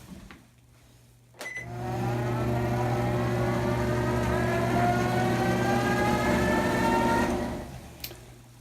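A treadmill spins a pinewood derby car, starting abruptly with a click into a steady whirring hum and rising whine that runs for several seconds before cutting off, with a click at the end.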